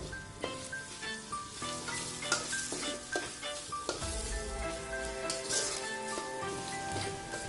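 Onions sautéing in oil in a pan for a chickpea sundal fry, a soft continuous sizzle broken by repeated metallic clinks and scrapes of a spoon stirring against the pan, close and fairly quiet, with no talking.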